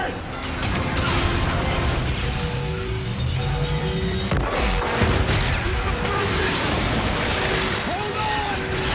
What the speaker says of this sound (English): You have to fire the gun and...